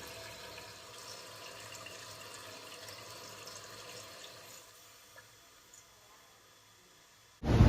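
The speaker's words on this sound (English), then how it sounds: "let's watch the tank fill and see if it shuts off properly" Toilet tank refilling with water after its seal was replaced: a faint, steady hiss of water running into the tank that eases to a quieter trickle, then a sudden loud clunk at the very end. No talking.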